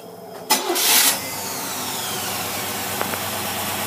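A marine engine fitted with a Holley carburetor cranks and catches with a sharp burst, then settles into a steady, loud idle close by.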